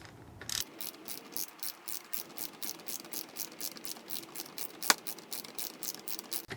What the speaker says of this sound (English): every once in a while, I'm going to switch over and tighten the 10 millimeter bolt